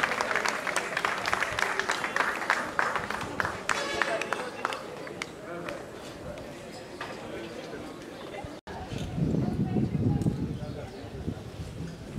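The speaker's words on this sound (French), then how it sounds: "On applaudit très très fort." A standing audience applauds to welcome the Minister of Culture, dense clapping with voices mixed in, easing off partway before a louder crowd swell with cheering and talk near the end.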